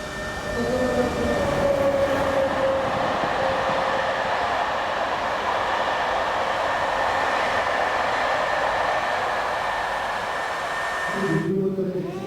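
An Aérotrain hover train driven by an electric motor runs with a steady loud whine and rushing hum that holds for several seconds before a clunk near the end.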